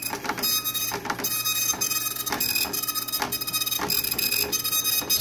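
Epson FX890 dot-matrix printer printing a job: a steady, close mechanical chatter with repeated rhythmic carriage sweeps and ticking, continuous and moderately loud, with no voices.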